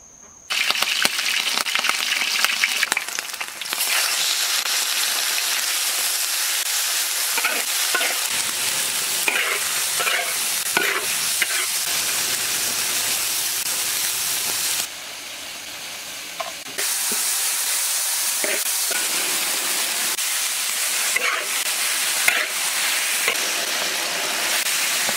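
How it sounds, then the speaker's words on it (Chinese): Pork fat stir-fried in a wok hisses and sizzles steadily, with rhythmic scraping of the spatula throughout and a brief quieter dip midway before the loud frying resumes. "先把这个肥肉啊煸炒一下。"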